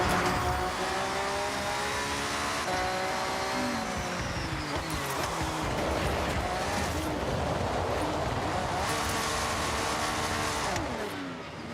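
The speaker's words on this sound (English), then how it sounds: "Completely spun the car there." Car spinning out in the Forza Horizon 6 racing game, engine revving through shifting pitch with tires squealing loudly, continuous and close throughout without talk.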